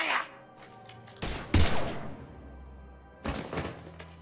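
Gunfire in the video game Mass Effect 3: several sharp, loud bursts of shots spaced across a few seconds, each cracking out over a ringing, reverberant background with low thuds.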